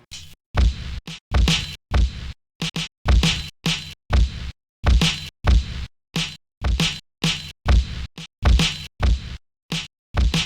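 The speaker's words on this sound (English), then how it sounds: "That's just the way the drums sound." Lo-fi drum beat with punchy kicks and snappy hits, played alone in a steady, repeating pattern of sharp, separate thwacks.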